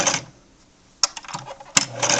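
A Singer Fashion Mate 360 sewing machine stitches in short bursts, a close rapid mechanical whirring that stops and restarts twice with quiet gaps between.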